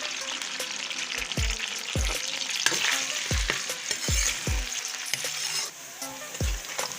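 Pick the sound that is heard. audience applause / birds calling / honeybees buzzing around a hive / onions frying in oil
onions frying in oil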